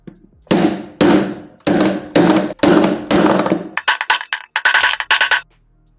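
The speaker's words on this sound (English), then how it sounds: "I will use this iron round plate to fit the bearing." An iron round plate is hammered to seat a bearing into a washing machine drum during a repair. About a dozen loud, close metallic knocks land one after another, slow at first and then faster and sharper toward the end, with no talk.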